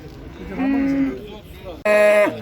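Cows and calves low at a livestock market in Uzynagash, Almaty, a drawn-out moo followed by a second louder, harmonic bellow close by, with faint murmuring and yard noise behind.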